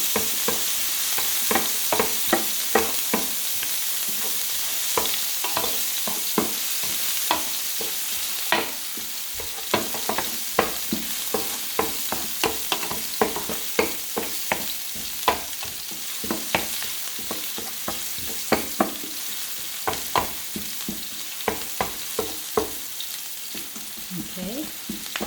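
Onions sizzle steadily in a hot pan while being stirred for Filipino arroz caldo, with frequent sharp scraping and clacking strokes of the utensil against the pan over a constant frying hiss.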